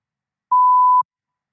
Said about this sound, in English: Please begin speaking after the beep.